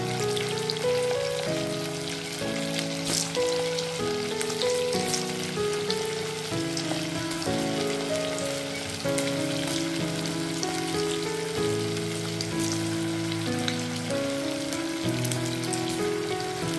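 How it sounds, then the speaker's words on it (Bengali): Vegetable Manchurian balls sizzle steadily in hot oil over a low-to-medium gas flame, a continuous hiss under tonal background sounds, with no talking. "ওই তেলের মধ্যে বাকি যে বলগুলো আছে ওগুলো দিয়ে দিচ্ছি আমি ফ্রাই করার জন্য।"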